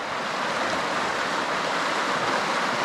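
A river flowing beside a gravel cycling route on the Dempster Highway, a steady broadband rush of water running continuously and evenly, fairly loud and close, with no voices over it.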